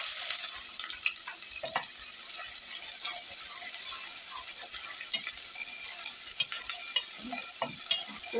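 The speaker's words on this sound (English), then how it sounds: "Cook our onions for 2 seconds." Onions fry in vegetable oil in a pot, giving a dense, continuous crackling sizzle with frequent small pops and scraping stirs, close and alone.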